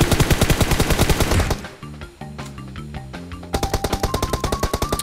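Rapid automatic gunfire in the PUBG Mobile video game, loud close bursts at a steady rhythm that break off briefly amid other game sounds, then resume.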